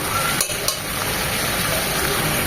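Shukto vegetables sizzle steadily in a pan as they are stirred, with a couple of soft scrapes of the spoon against the pan over a continuous frying hiss.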